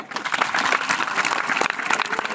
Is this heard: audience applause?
yes